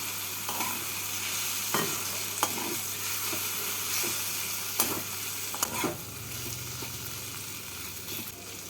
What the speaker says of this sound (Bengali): আলু দিয়ে পেঁয়াজ কুচি আর টমেটো কুচির সাথে নেড়ে নিচ্ছি